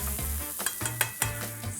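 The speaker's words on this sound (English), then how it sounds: "So another stir, get some sizzle." Duck carnitas sauce stirred and sizzling in a pot, with a steady frying hiss and a few sharp scraping clinks of a spoon against the pan, close and fairly loud with no talking.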